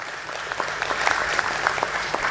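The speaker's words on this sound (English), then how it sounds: "May I have a big round of applause?" Applause from a crowd gathered for a stock exchange listing ceremony at BSE, a steady patter of many hands clapping at once, moderately loud and unbroken.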